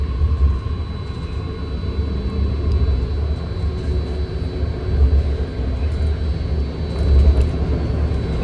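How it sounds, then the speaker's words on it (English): A six-car BART Red Line train pulls out of Millbrae Station, heard from inside as a steady, loud low-frequency rumble with swelling surges and no talking. "Here we are pulling out of Millbrae Station with our first stop being the San Francisco International Airport."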